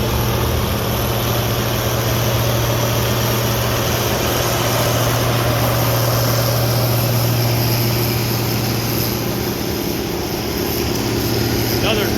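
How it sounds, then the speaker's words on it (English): A John Deere tractor pulls a six-bottom International plow at a Rantoul farm event, with a steady, loud engine drone and a low hum that runs unbroken for the whole stretch. "John Deere pulling an international plow."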